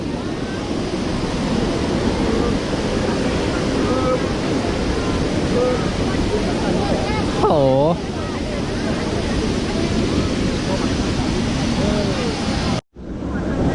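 A loud, steady roar of rushing water from a powerful waterfall close by, Haew Narok in Khao Yai National Park, Thailand, with wind buffeting the microphone and a brief break near the end.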